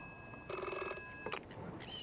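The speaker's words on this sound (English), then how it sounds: "Ross was in McGillicuddy collecting some supplies from Eddie Stone's shop when the phone rang." A telephone rings once with a bright electronic trill in a village shop in a 1983 animated episode, followed by a faint click as it quiets, heard close against a quiet room.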